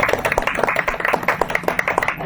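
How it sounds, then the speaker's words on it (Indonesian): Scattered, uneven clapping from a school audience at SMKN 1 Pugaan fills the moment, a modest round of hand claps with no voices over it. "Tepuk tangan lagi dong."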